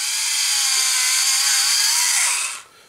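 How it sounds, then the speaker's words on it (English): A Tamiya hand drill bores through a miniature base, giving a steady close grinding whir that stops abruptly near the end. "I've got my Tamiya drill, fantastic tool, and we're just going to drill in"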